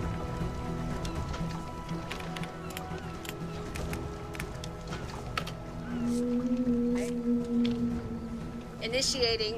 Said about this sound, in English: The mating call of the large male humpback whale.